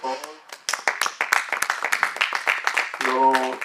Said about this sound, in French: Applaudissons encore pour la parole.